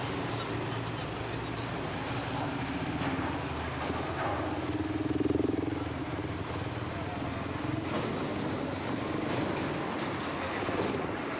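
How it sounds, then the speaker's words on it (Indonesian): Many motorcycles rolling off a ferry at a port, a dense continuous roar of engines with a swell near the middle, while someone talks over it throughout. "Banyak banget motor ya, banyak motor teman-teman semuanya."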